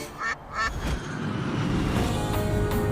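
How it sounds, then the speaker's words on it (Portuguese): A flock of ducks quacks at a freight center in the Seattle area, with a few sharp quacks at the start and more scattered calls later over a rising low rumble of vehicles. "Mesmo num centro de carga, dá pra ver um bando de patos."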